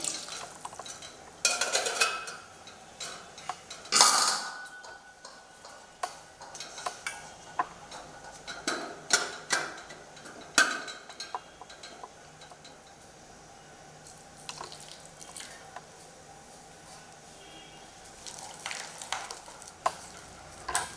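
A spoon handle stirs idiyappam rice flour dough in a bowl, making irregular scraping strokes and sharp knocks and clicks against the vessel, close by with quiet pauses between, and no one talking.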